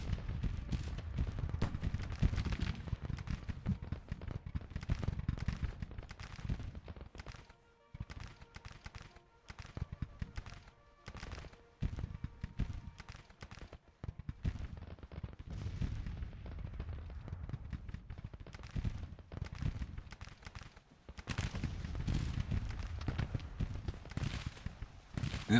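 Gunfire and artillery from a Civil War strategy game rumble as dense, continuous booms and cracks, heavy and low, with a brief lull midway before the barrage swells again.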